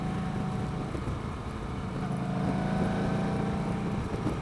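A 2015 Yamaha Star V Star 1300 Deluxe V-twin motorcycle engine revving high in third gear while riding, a steady low drone with a muffled, continuous hum and faint wind noise.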